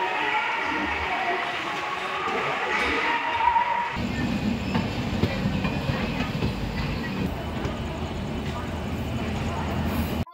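A train pulls out of Santragachi Junction bound for Howrah, its steady rumble and rolling rail noise building loud and close after a quieter opening, with no voices.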